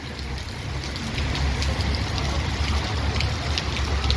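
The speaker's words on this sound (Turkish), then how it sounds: "Yaz yağmuru olduğu için iri iri atıyor bakın" Heavy summer rain with large drops pouring down steadily outdoors, a dense, even hiss with low rumble underneath and scattered sharper drop impacts throughout.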